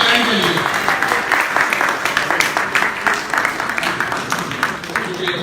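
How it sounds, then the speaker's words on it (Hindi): A crowd at a cricket coaching gathering in Maryland claps in a loud, somewhat uneven burst, individual hand claps audible in the mix, with voices talking over the applause. "तालियां क्या बाल्टी मोर के लिए, गाइडलाइन के लिए"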